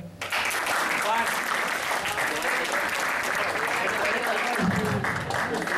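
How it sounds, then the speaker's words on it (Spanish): An audience claps in sustained, dense applause for a technical support person at a philosophy and mathematics lecture, loud and even throughout, with a brief voice near the end. "así que les pido un aplauso para Juan"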